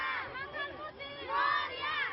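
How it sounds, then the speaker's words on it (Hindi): Dense crowd of devotees at a Ganesh Chaturthi puja, a continuous wash of many overlapping voices with shouts rising and falling, swelling louder in the second half. "बाप्पा की इस पूजा का आयोजन 10 दिनों तक चलेगा। इस दौरान भक्तों की इस अप्रत्याशित भीड़ से पूजा को लेकर श्रद्धा और उत्साह का माहौल सहज"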